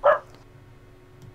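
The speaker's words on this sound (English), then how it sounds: "That's our dog." A single short dog bark near the start, loud and close, followed by a quiet indoor background.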